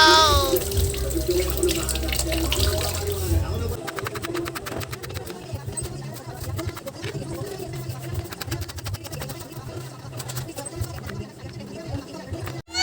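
Water runs from a kitchen tap while an onion is rinsed, a loud steady gush for a few seconds that then gives way to quieter splashing and clattering as the washing goes on.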